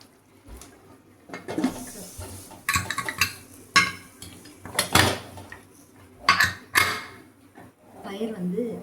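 Stirring in a pot with a ladle while cooking soy gravy, then a pressure cooker lid set in place: scattered clinks, scrapes and metallic knocks, close and moderately loud, under intermittent talk.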